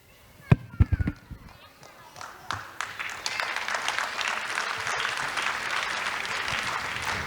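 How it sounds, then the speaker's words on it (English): A crowd applauds a children's performance at a preschool annual day: a few sharp knocks, then clapping that swells into loud, sustained applause from the audience. "Please give them a big round of applause, everybody."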